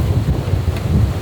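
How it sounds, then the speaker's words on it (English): A sudden rainy-season thunderstorm in the Maldives roars with steady, loud rain and wind gusting against the microphone over a low rumble, and no one speaks. "These storms come out of nowhere too. They just blow in,"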